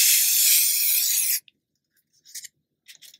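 An aerosol spray can mists onto shrink plastic in a steady, close hiss lasting over a second, then stops abruptly, followed by a few faint taps and light rustles.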